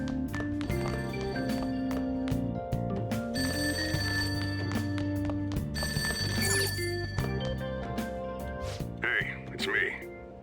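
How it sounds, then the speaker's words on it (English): A telephone rings downstairs in the video game Persona 5 Royal, its repeated bell tones sounding over looping in-game music for the whole stretch. "That ringing sound isn't coming from my cell phone."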